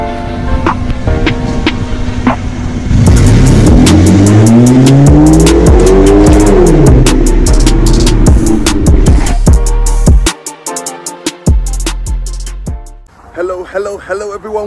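A straight-piped BMW E60 530d diesel with a stage 1 tune revs hard in sport mode and accelerates with squealing, smoking tires. A loud, rising engine roar shifts through the gears, with a voice talking over it at close range.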